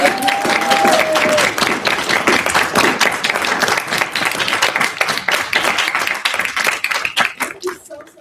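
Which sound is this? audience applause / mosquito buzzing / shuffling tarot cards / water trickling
audience applause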